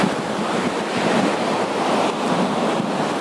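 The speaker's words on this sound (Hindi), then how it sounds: "और ये नीचे है अलकनंदा नदी" Alaknanda river rushing far below a mountain road, a constant broadband roar of turbulent water mixed with wind buffeting the microphone, no voices.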